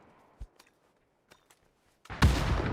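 A grenade goes off in the PUBG battle royale shooter: a sudden loud, close blast with a sustained rumbling tail, preceded by a few faint isolated thuds and footstep-like taps.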